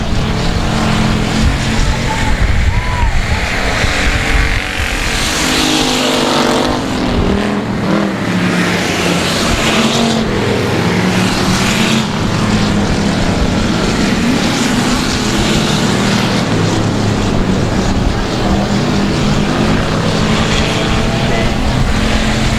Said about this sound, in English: let's see if he can hold that as we do a drag race down the backstretch